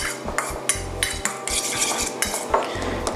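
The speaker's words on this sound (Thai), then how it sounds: "ผมก็ลงเนยละลายลงไปเลย คนให้เข้ากันง่ายมาก" A utensil stirs melted butter into a chicken and hijiki mixture in a bowl, giving repeated scraping and clinking strokes in an irregular rhythm, close and fairly loud.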